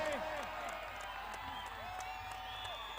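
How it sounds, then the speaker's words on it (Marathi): Spectators at a district-level kabaddi match clap steadily, a dense wash of applause with scattered cheers and whoops, while voices and rising calls carry over the crowd. "आता मात्र आवाज फक्त टाळ्यांचा येतोय"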